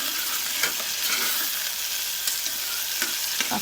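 Tomatoes sizzle and fry in a pan for an Indian potato curry, with a steady bright hiss and a few soft scrapes of stirring rising over it.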